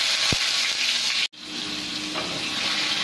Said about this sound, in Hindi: प्याज कर लेंगे हम थोड़ी सी हमारी फ्राई